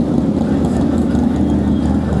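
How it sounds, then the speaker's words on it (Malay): Loud, steady engine rumble of a Harley-Davidson Sportster 48 motorcycle, close by and continuous, with a deep low idle-like drone and no talk over it. "Bukan main basing lagi motor dia"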